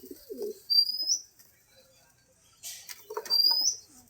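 Pigeons coo in two soft bursts separated by near silence, with faint chirps and light wing flutter, close by and quiet, no voices.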